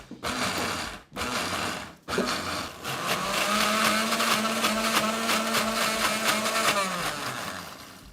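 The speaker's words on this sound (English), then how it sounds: "see how it's blending together and it's pulsing" Kitchen blender pulsing almond pesto: two short bursts separated by brief stops, then a sustained loud whirring run of several seconds that winds down at the end.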